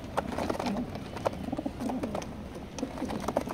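Racing pigeons coo in a loft, with low repeated rolling coos from several birds overlapping steadily throughout, close by, amid background chirps and rustling.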